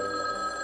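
Telephone ringing indoors, a steady electronic bell tone sounding continuously and fairly loud for a brief moment with no voices.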